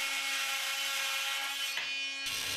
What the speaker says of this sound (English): allows you to make deep plunge cuts in wood, as for instance for cutouts in floorboards and decking